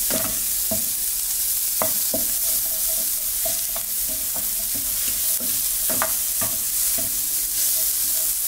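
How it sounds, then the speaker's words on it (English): Onions stir and fry in a pan over medium heat, a steady loud sizzle punctuated by repeated scraping strokes of the utensil at irregular intervals. "So just give the onions a stir, give them 2 minutes to just cook and feel translucent."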